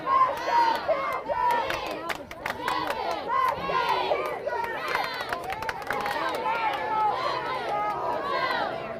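A packed stadium crowd of football fans roars and shouts through a college game between Maryville and the Battling Bishops, a dense, continuous wall of many voices with bursts of yelling.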